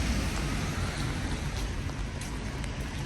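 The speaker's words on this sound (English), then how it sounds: "As you can see, it's raining." Rain falls steadily on a winter night in the streets of Regensburg, Germany, a dense even hiss of drops on pavement and surfaces, moderately loud and unbroken, with no voices.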